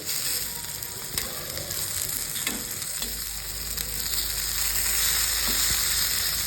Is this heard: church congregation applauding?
no